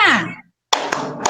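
A teacher's voice leads into a short burst of sharp hand claps, three quick claps spaced apart, from the 'tepuk PPK' clapping chant in an online classroom lesson.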